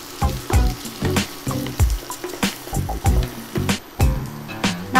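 Onions and green chillies frying in a pan for pepper chicken, giving a loud sizzle with repeated rhythmic bursts of stirring and scraping, close and clear.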